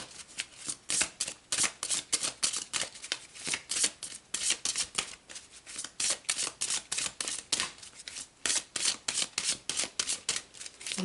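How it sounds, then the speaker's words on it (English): A tarot card deck shuffled by hand, a long run of quick rhythmic riffles and crisp slaps repeating steadily over about eleven seconds, close and clear with no talk. "let's pull some from this deck"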